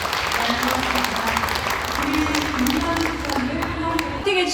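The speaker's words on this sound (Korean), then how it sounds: "역시 박수 부탁드립니다" Applause from the crowd at the opening ceremony reception of an international AI metaverse film festival, a dense continuous roar of clapping mixed with some crowd noise and faint cheering, loud and even throughout.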